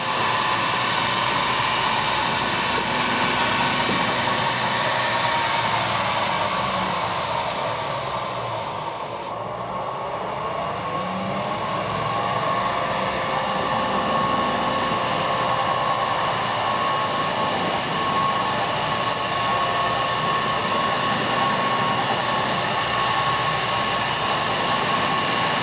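A drill bit boring through stainless steel for a simple spur gear modification, heard as a continuous loud whirring grind throughout, easing briefly near the middle before resuming at full strength.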